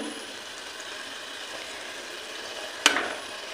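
Lalmohan sweets fry in a pan of hot oil with a steady low sizzle and a sharp burst of crackling near the end, as if something was stirred or dropped in.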